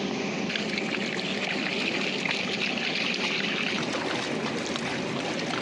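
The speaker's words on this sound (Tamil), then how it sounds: "இப்போ வந்து நம்ம உலை தண்ணி ஊற்றிக்கலாம்." Water is poured into a large pot of Dindigul-style chicken biryani as it cooks, giving off a steady, even splashing hiss that runs without a break for several seconds at moderate volume.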